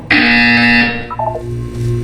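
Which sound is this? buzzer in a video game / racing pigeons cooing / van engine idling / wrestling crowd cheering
buzzer in a video game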